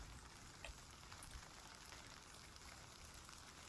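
Steady rain falls in the Road to Vostok video game at a dark, rainy time of day, a constant, even hiss of drops with a few faint louder patters, heard alone without talk.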